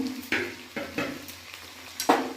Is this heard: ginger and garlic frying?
yes